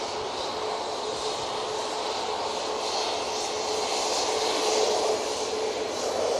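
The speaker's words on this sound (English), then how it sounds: "Next on, we have the Ryanair 737 MAX 8" A Ryanair Boeing 737 MAX 8 jet at Manchester Airport, a steady, moderately loud engine rumble and hiss that swells slightly toward the end, with no voices.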